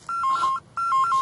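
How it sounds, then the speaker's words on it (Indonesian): A telephone rings with a bright electronic warbling tone in two short bursts separated by a brief pause, sounding close and clear with no talk over it. "Oh, telepon."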